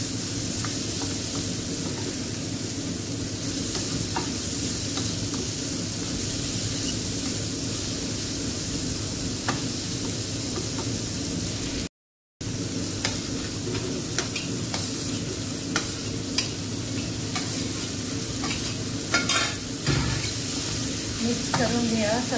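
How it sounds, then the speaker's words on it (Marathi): Mixed vegetables with broccoli stir-fried in a pan, a constant close sizzle with repeated scraping stirs throughout, broken by a brief gap of silence midway. "जरा भाज्या 2-2 मिनिटांसाठी आपल्याला भाजून घ्यायचे आहेत"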